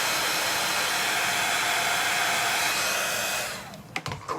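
A hair dryer blows steadily on a handmade Halloween sign, a loud, continuous whooshing whir that cuts off near the end, followed by a few soft handling knocks.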